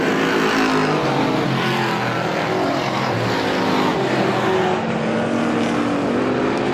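Race cars roar around the oval at Star Speedway during a heat race, a dense, loud, continuous engine drone with shifting pitch as the cars sweep past in the turns, with no voices heard.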